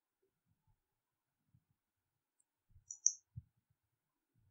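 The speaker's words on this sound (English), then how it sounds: "Double click to open this window." A computer mouse gives a quick double click on a Windows 10 desktop, two crisp close clicks in rapid succession amid near silence, followed by another faint tap.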